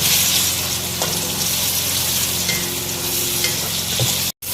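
Onions and chopped tomatoes fry in a pan for a reshmi chicken curry, giving a steady, close hiss of sizzling with a few faint stirring scrapes. There is a brief drop to silence near the end.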